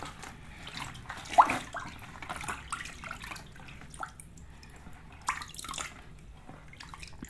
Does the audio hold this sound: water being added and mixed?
yes